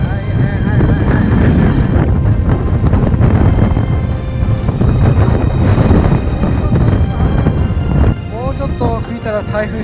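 Strong wind gusts roar across a snowy mountain slope at Nasu in winter, a loud continuous buffeting rush that swells and drops, with a voice talking over it throughout.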